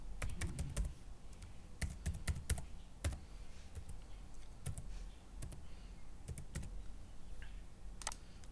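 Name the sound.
typing password on computer keyboard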